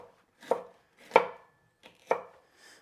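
Peppers roughly chopped with a knife on a board, three distinct close chops spaced about half a second apart, with quiet gaps between.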